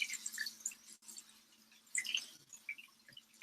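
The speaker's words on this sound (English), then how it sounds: "I'm just rinsing these off." Items rinsed under a running kitchen tap during a cooking session, a quiet, steady splashing and dripping patter with brief irregular splats, close by and without speech.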